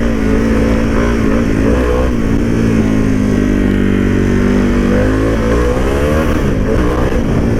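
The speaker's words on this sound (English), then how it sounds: "There we go, we hit a little rev limiter action there." A Harley-Davidson Pan America adventure motorcycle with the stock exhaust revs hard and loud on a test ride, its engine note climbing and falling in repeated sweeps and bouncing off the rev limiter.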